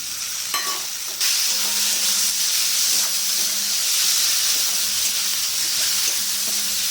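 Tomato stirred and fried in a pan for mung dal with fish head, a loud, continuous close sizzle and hiss with repeated spatula scrapes, starting after a short quieter moment.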